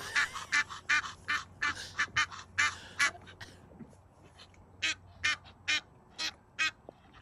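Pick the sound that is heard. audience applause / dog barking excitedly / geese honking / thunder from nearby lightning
geese honking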